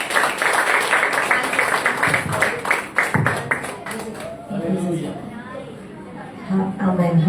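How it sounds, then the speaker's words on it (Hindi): A church congregation at a Sunday worship service claps for the Lord, a steady, fairly loud patter of many hands that continues under a voice speaking throughout. "आइए ताली बजाएंगे प्रभु के लिए।"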